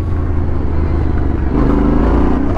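A Yamaha Ténéré 700 motorcycle, new 2022 model, riding off-road: a loud, close engine drone that holds steady and then rises in pitch as the rider opens the throttle.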